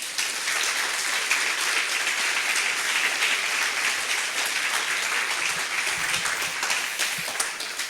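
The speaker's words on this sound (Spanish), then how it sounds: "Dele otro fuerte aplauso al Señor." A church congregation gives loud, sustained applause during a worship service, a dense, unbroken wash of clapping that lasts throughout.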